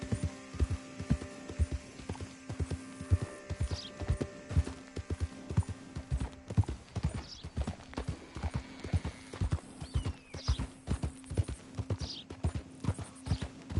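Rhythmic clip-clop of horse hooves at a steady trot in a PS4 video game, close and clear, with a brief whinny partway through over a low hum.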